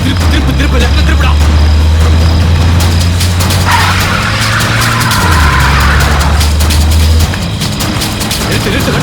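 A car swerves hard to the left and skids during a tense movie chase scene, with a loud sustained engine roar and a brief screeching burst over dense, busy action sound.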